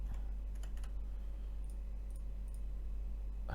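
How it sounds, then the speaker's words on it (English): Typing on a computer keyboard, a password being entered at a slow, irregular pace, with faint scattered key clicks over a steady low electrical hum. "Please type in your password."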